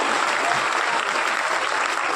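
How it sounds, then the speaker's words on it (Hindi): Steady, dense applause from an audience at a Hindi kavi sammelan poetry recital, even and sustained throughout with no pauses. "धन्यवाद जो तालियां दी"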